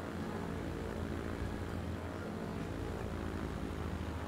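A propeller airplane in the game Transport Fever 2 takes off, giving a faint, steady, droning engine and propeller hum that stays even and continuous throughout, with no voices.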